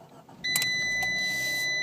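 A 2012 Fiat 500 sports hatchback switched on, heard from inside the cabin: a short click followed by electronic chimes and a steady whirring hum as the system powers up, fairly close and clear.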